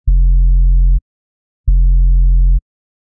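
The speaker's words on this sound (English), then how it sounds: "If you don't know what a sub is, I'll play an example of it right here." Deep sub-bass synth tone of the kind used on the Doom soundtrack, played alone as two sustained, steady notes of about a second each, separated by a short silence, loud and smooth.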